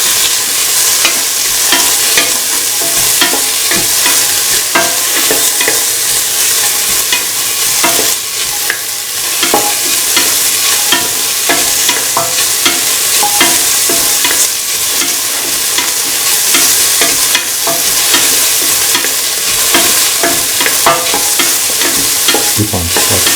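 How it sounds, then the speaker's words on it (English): Chopped onions fry and sizzle in a pan while a spoon stirs them, with a continuous hiss broken by repeated scraping and clinking strokes, close and loud, no voices. "Keep on stirring until the onions are golden brown."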